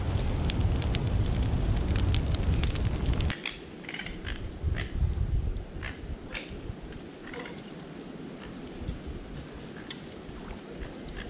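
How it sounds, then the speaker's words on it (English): A large outdoor bonfire of piled wood burns loudly, with dense roaring crackle and sharp pops, the roar dropping partway while steady snapping continues. "This is a pretty good sized bonfire."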